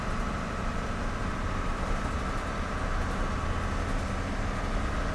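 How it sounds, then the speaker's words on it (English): Dennis Eagle refuse truck engine picking up speed, heard from inside the cab as a loud, steady, rumbling drone that holds constant throughout with no voices. "You can see as we start to pick up speed, it really is noisy. I mean, I'm having to raise my voice to talk over the engine."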